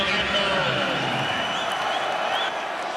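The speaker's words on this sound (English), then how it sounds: "Much more energy in the crowd now." Stadium crowd at an LSU Tigers versus Florida Gators college football game, a broad sustained roar of cheering and applause filling the background, steady throughout with a commentator talking over it.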